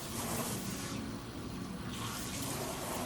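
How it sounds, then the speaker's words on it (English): Running water streams steadily over a child's hair during a rinse, a continuous close splashing wash with a brief softer dip midway. "now that I've rinsed her hair"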